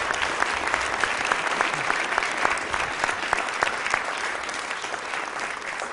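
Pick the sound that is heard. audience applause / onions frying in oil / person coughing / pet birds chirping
audience applause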